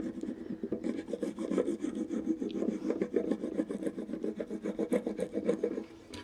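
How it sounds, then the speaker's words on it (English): A vinyl panel is burnished down onto a surface, making continuous close rubbing and scraping strokes in a quick, even back-and-forth rhythm for several seconds with no talk. "Just going to lay that on top of it. And again, burnish it down."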